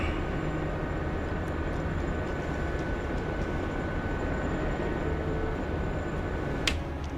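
A Gazelle helicopter hovers in a video game, its rotor and engine making a steady, loud, dense drone that runs unbroken throughout, with a brief sharp click near the end.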